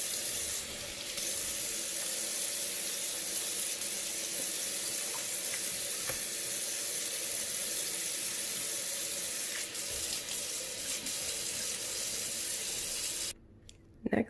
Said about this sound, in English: I'm going to sterilize my sinks and all my surfaces and wash those all down.